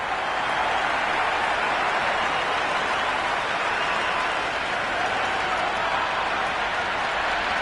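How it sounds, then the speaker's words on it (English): A raucous cricket crowd cheers and applauds in a dense, continuous roar of clapping and voices that stays loud and unbroken throughout. "The crowd are really getting quite raucous."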